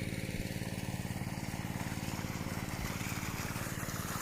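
An engine-driven water pump runs steadily in a dry, cracked rice field, its rapid even chugging putter close and constant throughout with no speech.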